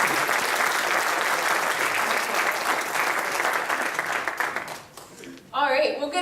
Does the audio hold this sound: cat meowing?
no